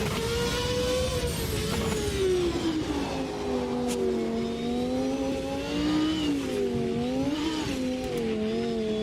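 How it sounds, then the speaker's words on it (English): A McLaren rallycross car in the Automobilista 2 racing game, its engine holding a loud, sustained drone that wavers in pitch as the back end slides, with faint tyre noise underneath. "Just sliding the back end of this priceless McLaren."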